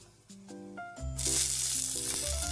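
Onion fries with cornflour in hot oil for corn chivda. A loud, bright sizzle bursts in about a second along and keeps going over soft musical tones.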